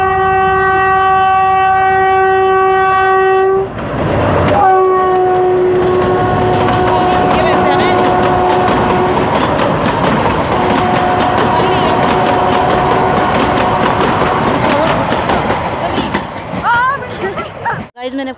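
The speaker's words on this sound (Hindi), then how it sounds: "गाइस अभी ट्रेन भी आ रही है" A small narrow-gauge train in the Kangra Valley, Himachal Pradesh, rolls past close by with a loud, steady rumble and rail clatter after a long horn blast, while someone talks over it.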